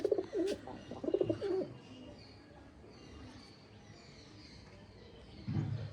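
Madras and Andhra breed pigeons coo in soft low bursts at the start and again at the end, with a faint background hum in between.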